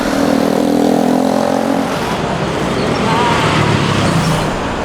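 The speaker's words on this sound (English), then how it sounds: "I can never get a break to cross this road. There's just so many cars." Busy city road traffic in the Philippines, with cars and buses streaming past continuously, a steady loud roar of engines and tyres, with a low vehicle drone early on and people talking nearby.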